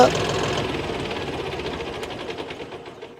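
A John Deere 5405 CRDi tractor engine gives a steady mechanical rumble with a rapid knocking rhythm, close and fairly loud, fading slightly toward the end.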